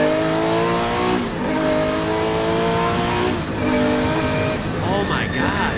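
An onboard Porsche rally car on a wet stage, its engine rising and dropping through revs in harsh, wavering bursts with shifts between, loud and close, while a voice talks over it.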